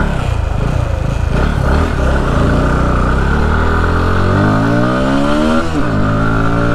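An NS200 motorcycle rides on a highway, its engine loud and close. The note climbs and falls through hard acceleration and gear changes, with a steady rush of wind and road noise and no voices.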